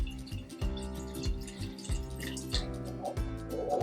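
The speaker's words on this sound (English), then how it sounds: "I'm gonna pour the water until I reach" Water is poured into the reservoir of a potted ponytail palm, giving a soft, irregular trickling and splashing that runs throughout at low volume.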